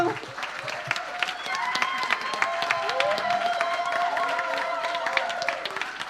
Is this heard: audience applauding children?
yes